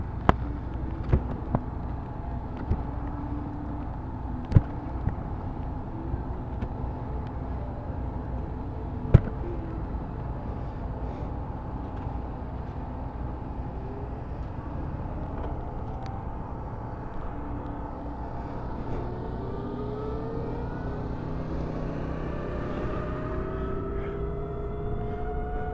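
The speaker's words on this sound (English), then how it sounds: "we're testing out the Live Wire bike here" Harley-Davidson LiveWire electric motorcycles riding in staggered formation, a steady low hum and road rumble with rising and falling whine tones as the bikes accelerate and pass, a few sharp clicks and knocks, no talk.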